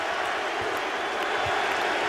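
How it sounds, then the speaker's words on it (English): A basketball arena crowd at a Chicago Bulls home game roars and applauds in a steady, dense wash of cheering that continues without a break. "this crowd saluting the Bulls on Michael Jordan's 48th birthday"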